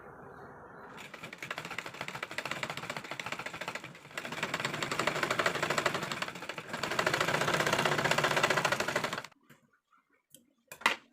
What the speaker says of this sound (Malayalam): ഇതേ ഷേപ്പിന് തന്നെ ഡബിൾ സ്റ്റിച്ച് ചെയ്ത് കൊടുക്കാം കേട്ടോ